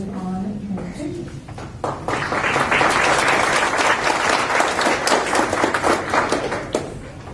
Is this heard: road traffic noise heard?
no